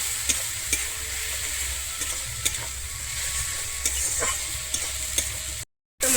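Kashmiri chilli powder and turmeric masala fry in oil in a pan, a continuous close sizzle broken by light scraping strokes as it is stirred, with no voices.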